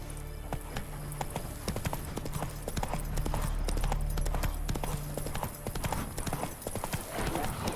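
Roach, Geralt's horse in the video game The Witcher 3: Wild Hunt, gallops near the bridge to Novigrad, with steady, close, rhythmic hoofbeats running throughout over game music.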